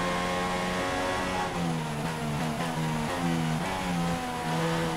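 A Formula 1 car engine screams through gear changes in F1 2016 at the Bahrain Grand Prix in Sakhir: a loud, continuous high-revving whine that steps up and down in pitch with each shift.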